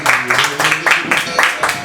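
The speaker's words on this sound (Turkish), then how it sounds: "Alkışlarla bu geceyi bitiriyoruz sevgili dostlar, sevgili arkadaşlar" Audience applause closing an evening stage show, a dense wash of clapping that surges in several repeated waves across the whole stretch, fairly loud and steady.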